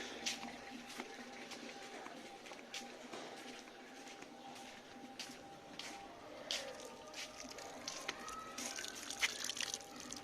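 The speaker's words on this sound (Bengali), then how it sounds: "দাও এই নতুন গাছটা জল দাও" Water trickles and drips onto a newly planted plant in a rooftop garden, a faint, uneven pouring sound with scattered splashes.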